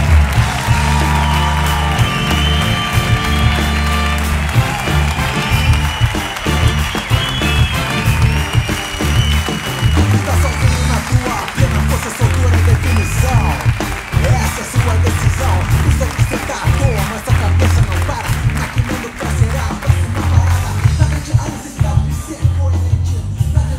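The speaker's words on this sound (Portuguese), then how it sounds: "Um forte aplauso para Hugo Sousa." Loud, sustained applause from a large comedy show audience fills the room, steady clapping that gradually thins toward the end.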